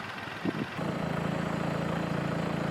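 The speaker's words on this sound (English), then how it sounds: "Installing the anchors with a post hole digger on the back of the tractor." A tractor runs a rear-mounted post hole digger that augers high tunnel greenhouse anchors into the ground, a steady mid-pitched engine drone that swells and then holds at a constant level after a brief knock.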